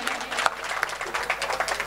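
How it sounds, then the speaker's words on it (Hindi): Audience applause at a Hindi poetry recitation, dense rapid clapping from a gathered crowd, steady and fairly loud. "एक बार जोरदार तालियां"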